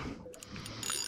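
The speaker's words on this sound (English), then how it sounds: "Let me just get the drag good." A fishing reel's drag is adjusted while tuna fishing, giving a brief run of small, soft mechanical clicks, close and faint, with no talking.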